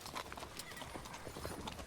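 Horse hooves clip-clop at a walking pace in a horse train entering a town, a quick run of soft, fairly faint knocking steps with no talking over them.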